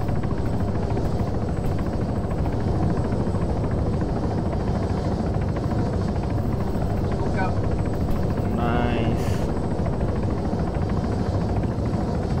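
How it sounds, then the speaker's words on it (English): A helicopter touching down during a game rescue operation at a compound, its steady loud rotor and engine drone running throughout, with faint brief voice fragments partway through. "chopper has landed."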